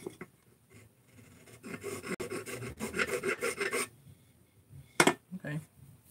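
A Scotch-Brite abrasive wheel scrubs old gasket material off an engine crankcase in steady rasping bursts that swell and fade, with a sharp louder pass near the end and quiet gaps between.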